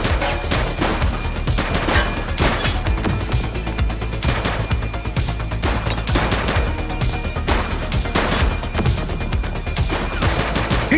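Rapid gunfire in the police video game The Precinct, a dense, continuous burst of shots and volleys at close range, loud and unbroken through the whole stretch.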